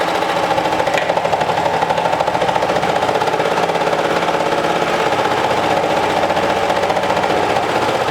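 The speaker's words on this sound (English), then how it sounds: "now we're going to stitch this down with 1/4 inch seam allowance" Sewing machine stitching French terry fabric with a quarter-inch seam, a loud rapid mechanical chatter running steadily and evenly throughout with no pauses or voices.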